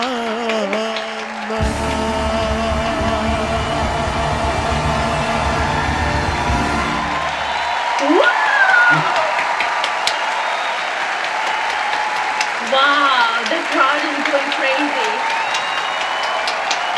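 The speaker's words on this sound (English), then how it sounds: "the crowd right here is going crazy" An audience at a live Persian pop concert applauds and cheers, sustained clapping and shouting that lingers after a musical passage ends, with a voice talking close over the crowd noise.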